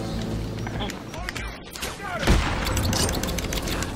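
Gunfire and combat impacts in the video game Batman Arkham City, a dense, busy clatter of shots and thuds with a heavy boom midway, steady and loud under game voices.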